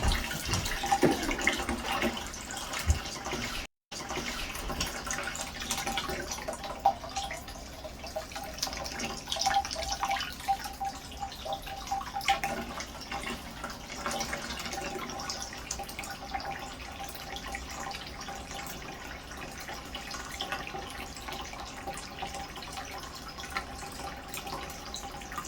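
Water runs steadily from a hose into a 40-gallon orange shrimp aquarium during a large water change, a continuous close rushing and trickling flow with a momentary cutout early on, then an unbroken stream to the end.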